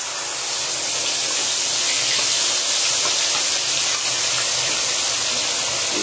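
Ginger, garlic, onion and green chili paste frying in oil with cardamom and bay leaf for chicken kosha: a loud, even, continuous sizzling hiss, close by and unbroken.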